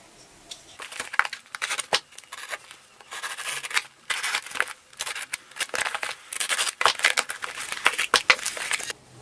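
Copper bubble cap tray package for a 4-inch Distillex Pro Caps column being opened by hand, with crinkling packaging, scraping and cutting sounds in irregular close bursts throughout, little talk.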